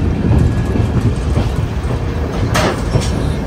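Somnath Express rattling along the line between Dwarka and Somnath, heard from inside a coach: loud continuous rumble with rhythmic clickety-clack of wheels over rail joints and a sharp metallic burst near the end.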